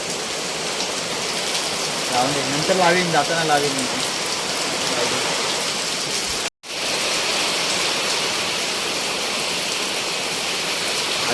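Torrential rain drums on metal roof sheets during a night windstorm, a loud, unbroken hiss that fills the scene, with a short spoken phrase early on and a momentary cut in the sound.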